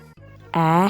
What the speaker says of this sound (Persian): میبینید که گوسفند رو دارم